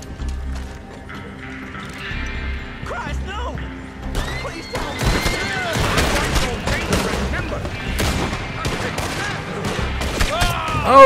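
Rapid gunfire bursts from a shootout in the video game Red Dead Redemption 2, loud and close with horse sounds mixed in, under a player's excited talk.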